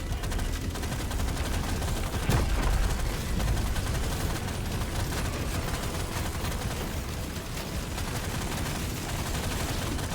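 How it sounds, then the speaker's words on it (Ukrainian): Dense, constant rumble of explosions and rapid weapon fire from the video game Deep Rock Galactic Survivor, thick and loud throughout with one sharper blast standing out early on. "Чому все постійно вибуха біля мене?"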